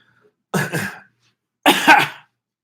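Two close, loud bursts of coughing and throat clearing from one person, each lasting about half a second, separated by a short silence.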